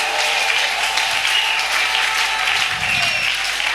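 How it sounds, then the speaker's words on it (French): A church congregation claps loudly and steadily in praise of God, a dense, continuous wash of applause with sustained music underneath and a low rumble swelling briefly near the end. "Acclamez très fort ce Dieu-là."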